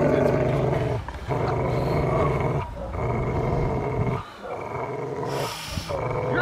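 A Rottweiler puppy growls steadily and deeply while biting a training sleeve during protection training, with the rumbling broken by a few short pauses for breath and a brief sharper snarl near the end.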